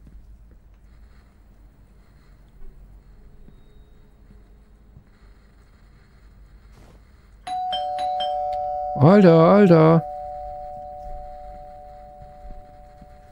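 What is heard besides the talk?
doorbell ringtone in video game Dead Faces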